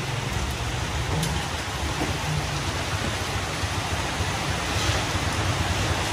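Steady, dense rain pours down over small alleys on an afternoon, a constant loud hiss with no pauses and no voices.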